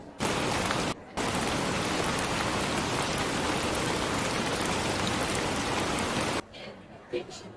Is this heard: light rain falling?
yes